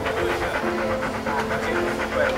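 Several street dogs panting rapidly and rhythmically at a feeding spot, close and fairly loud, with a steady background hum.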